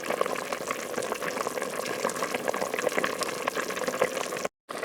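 Zuppa Toscana soup simmering in a pot after half an hour of low cooking, a soft, steady bubbling and gentle liquid burbling, faint and close, with no talking.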